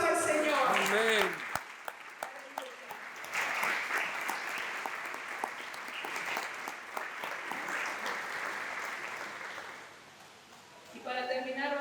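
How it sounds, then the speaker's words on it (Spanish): Church congregation breaking into sustained applause for the Lord at a live Easter Sunday service, dense crowd clapping rising after a brief spoken line, holding steady for several seconds, then thinning out as a voice returns. "Le damos un aplauso al Señor"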